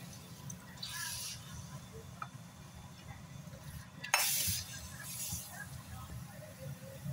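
Beaten eggs are stirred in a pan with eggplant, giving a soft continuous sizzle and scraping under faint room noise, with a few brighter clinks of the utensil against the pan.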